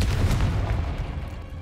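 A Confringo blast spell goes off in the Hogwarts Legacy video game, a loud, deep explosive boom with a rumbling low-end tail that fades slightly over under two seconds.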